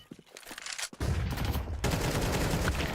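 Rapid pistol gunfire in a Counter-Strike match at a PGL Cluj-Napoca 2025 tournament: a dense, loud burst of overlapping shots starts after a quieter first second and continues steadily to the end, with no talk.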